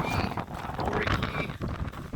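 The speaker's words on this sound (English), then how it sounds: "Super windy." Strong wind roars and buffets against the microphone in uneven gusts, loud and close, with no voices, at Lake Tekapo, New Zealand.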